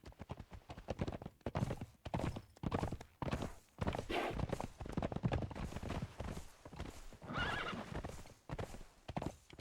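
A horse in the video game Conan Exiles clops along in a steady rhythm of hoofbeats and lets out a couple of whinnies partway through. The game audio is moderately close and clear.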